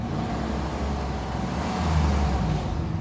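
A Chevrolet Silverado pickup running on CNG, its engine humming in a steady, close, low rumble at constant loudness, with no voices over it.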